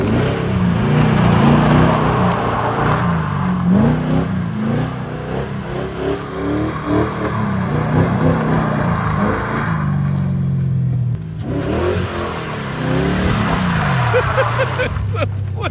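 A car's engine roars and revs in second gear while drifting on a slick surface, rising and falling in pitch close by as people talk over it.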